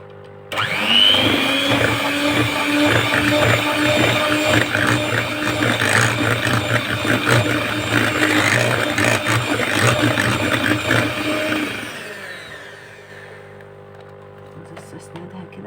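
An electric mixer whirs loudly and continuously while beating orange biscuit dough made with orange juice, its motor hum steady for about eleven seconds before cutting off into quieter background.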